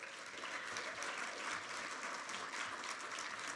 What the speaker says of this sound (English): let's give one more round of applause for these outstanding volunteers